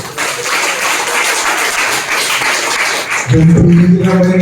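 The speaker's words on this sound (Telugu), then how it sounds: "గంభీరంగా చప్పట్లు కొట్టు" Congregation clapping hands together in a church worship service, a dense, steady wash of applause that ends abruptly as a loud sung or spoken voice with music takes over.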